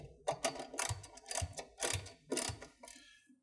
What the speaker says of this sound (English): After loosely installing the bolts, tighten and torque the spec.